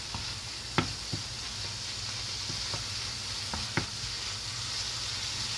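Poke salad greens cook down in a pan, giving a steady close sizzle broken by a few light clinks and stirring knocks, with no talk.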